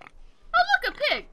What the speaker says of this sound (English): Oh, look, a pig.